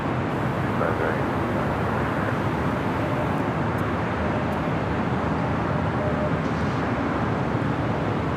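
A Lufthansa Boeing 747 jet taxis at LAX, a broad steady engine roar at moderate distance that holds level throughout, mixed with airport ambient noise.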